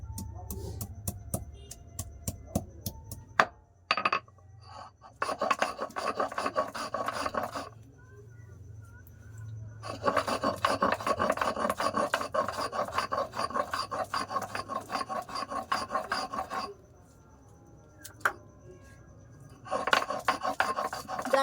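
Ginger and garlic are ground by hand on a grinding stone, heard as rhythmic bursts of rough, gritty rubbing strokes separated by pauses and sharp clacks, close and fairly loud.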